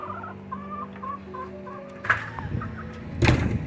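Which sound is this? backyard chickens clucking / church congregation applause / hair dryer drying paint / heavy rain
backyard chickens clucking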